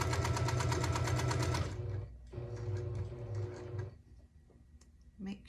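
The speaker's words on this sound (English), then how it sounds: "I'm going to sew this last piece on" Sewing machine stitching the final piece onto a quilt block, a fast even whirring rattle that runs, pauses briefly, resumes and then stops, close by, with a voice speaking near the end.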